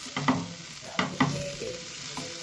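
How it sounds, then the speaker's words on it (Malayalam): A baby corn mixture being stirred in a frying pan: a few sharp, close scraping strokes of a spoon against the pan over a soft sizzle, with no talking. "എല്ലാം കൂടി ഒരുമിച്ച് നമുക്ക് ഇളക്കി കൊടുക്കണം."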